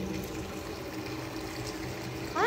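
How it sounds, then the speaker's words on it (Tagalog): Water running from a tap left open in a condo unit, a faint steady gushing hiss at a distance, with a short rising squeak at the very end. "Ay, may tubig naman eh. Nakalimutan nila isara siguro."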